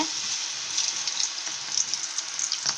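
Crumbled mushroom pieces fry in hot oil in a kadai, street-food style like pakoda, with a loud, steady, close sizzle and small popping crackles throughout.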